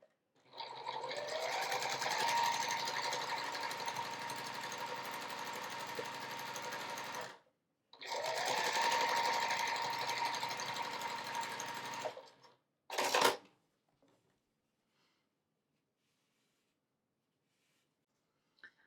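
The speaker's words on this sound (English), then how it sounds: "bring it under the sewing machine" A sewing machine stitches quilt strips for a beginner quilt block in two long steady runs of rapid mechanical whirring, each about five seconds, then a brief final burst, close and clear with no talking.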